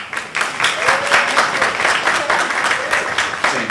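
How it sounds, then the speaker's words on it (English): An audience at a pun contest show at a convention claps in a dense burst of applause, mixed with a few raised voices and cheers, sustained for a few seconds. "By round of applause, how many people, is this your first time ever seeing Pundamonium?"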